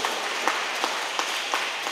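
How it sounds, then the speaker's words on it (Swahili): A church congregation at a Sunday morning service breaks into steady, moderately loud applause, many hands clapping together with a few sharper claps standing out, no voices clearly heard. "Piga makofi ya nguvu."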